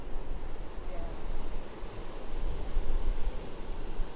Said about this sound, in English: So you can see the wind's blowing.